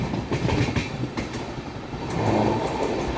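The Mumbai LTT Shalimar Express, train 18029, runs along the rails with a loud, continuous rumble and rhythmic clickety-clack of wheels over joints, heard from inside the moving train without speech.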